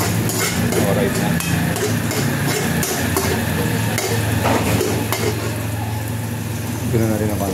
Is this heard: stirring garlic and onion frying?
yes